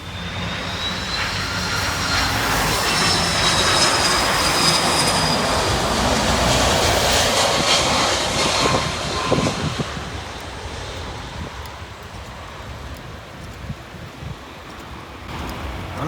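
Airliner landing in a crosswind at an airport on Mauritius, a loud engine roar with a high whine that swells, holds, then fades as it touches down and rolls away, without talk.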